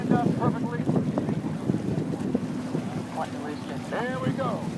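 Unlimited-class racing powerboats at a Superboat race in Key West speed off across open water, a far-off roaring engine drone under heavy wind noise, with a commentator talking over it.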